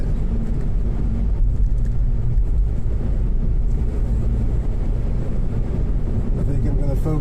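Steady, loud wind noise rushes through a car ventilated while driving, a dense continuous roar filling the clip with a low rumble underneath.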